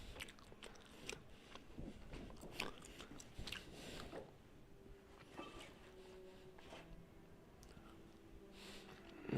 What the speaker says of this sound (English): I know you guys are gonna be hearing all my gum.